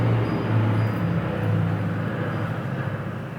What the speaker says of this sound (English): Sorry for the loud noise with the airplane.